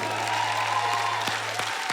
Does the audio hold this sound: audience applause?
yes